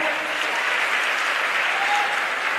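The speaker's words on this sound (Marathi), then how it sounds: "तुमच्या सगळ्यांसाठी एकदा जोरदार टाळ्या होऊ द्या" A large crowd at a political rally in Nanded claps loudly and continuously, a dense, even wash of applause filling the whole stretch with no pauses.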